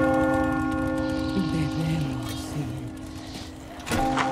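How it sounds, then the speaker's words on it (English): A church bell tolls in the Resident Evil 4 Remake village sequence, a sustained resonant ring under game ambience and a voice speaking, with a fresh strike near the end. "I hear the bell."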